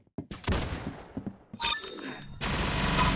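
A laser rifle fires in the video game Arsenal, in a few quick bursts of sharp, crackling shots. Short gaps separate the bursts before a final dense volley.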